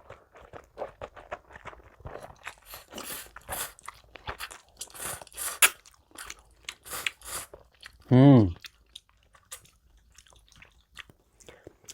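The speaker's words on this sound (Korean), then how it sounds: "맛있게 잘 먹도록 하겠습니다" Seafood jjamppong noodles with shrimp, baby octopus and squid are eaten up close, with repeated crunchy chewing, bites and slurps through the clip, and a short loud slurp of noodles near the end; a voice murmurs briefly between mouthfuls.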